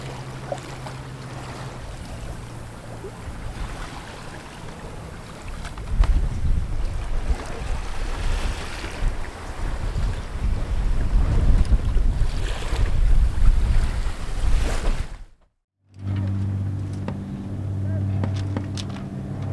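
A sailboat moves on the sea in wind during a regatta, with continuous wind buffeting the microphone and water rushing past the hull. A short break comes near the end before a steadier engine-like hum resumes.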